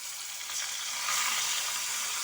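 Chukka kura and thotakura leafy greens hiss and sizzle as they fry in golden tempering in a pan, a steady, bright crackling that swells slightly partway through, with no talk.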